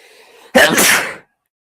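A single loud, close sneeze bursts out and stops abruptly after a brief quiet inhale, from a person watching a football match.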